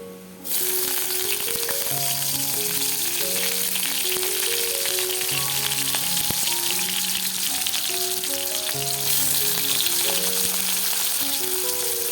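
Fish curry sizzles and bubbles in two pans on a home stove, a steady loud frying hiss running the whole time beneath a simple melodic tune, with no talking.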